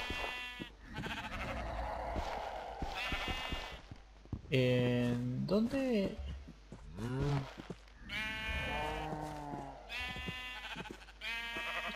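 Sheep in the video game Terrariacraft bleat several times in quick succession, clear and close, while a person speaks between the calls.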